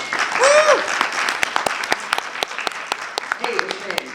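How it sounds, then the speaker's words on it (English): A convention panel crowd at MegaCon Orlando gives scattered applause, clearer individual claps emerging after a voice speaks over the start. "Everybody a round of applause."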